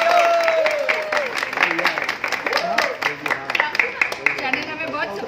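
Audience applause at a celebration event for a television show, loud sustained clapping from a large crowd with cheering mixed in, steady throughout.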